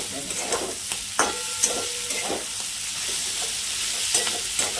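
Cauliflower pieces stir-fried with roasted peas in a pan: steady sizzling with a few sharp scraping and clanking stirs of the spatula, close and fairly loud, with no talking.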